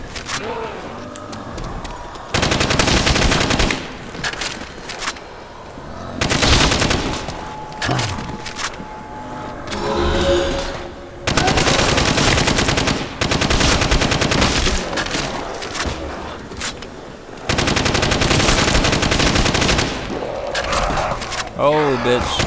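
Modern weapons blast in long rapid-fire automatic bursts in the Call of Duty: World at War mod video game, loud and repeated with short gaps between volleys, while players talk over the gunfire.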